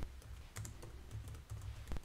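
Quick, close keystrokes on a computer keyboard come in a fast, uneven rhythm of light clicks and taps, heard alone in a quiet room.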